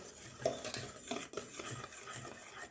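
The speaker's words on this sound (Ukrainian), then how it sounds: "Далі додаємо 280 мл кефіру і 120 мл е, рослинної олії. І все добренько перемішуємо." Cake batter of kefir and vegetable oil being mixed in a bowl, quick clinking and scraping of a utensil against the sides in a brisk rhythm, close and unaccompanied.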